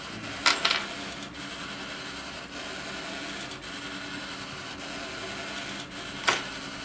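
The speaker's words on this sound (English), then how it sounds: "I have about 12 hours of print time on that 3D printer until it'll be done" A 3D printer works through a long print: a steady, fairly quiet mechanical whir runs throughout, broken by two brief clicking bursts, one near the start and one near the end.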